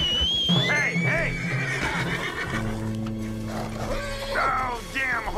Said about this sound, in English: Oh, damn, horse is crazy.